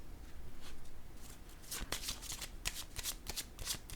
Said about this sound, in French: Attendez, je vais déposer une autre carte.